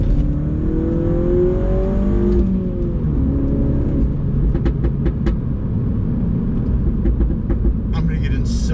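A Mini fitted with a loud JCW Pro Tuning exhaust revs close by, its engine drone swelling and falling in pitch as the throttle opens and eases, with a steady rumble throughout.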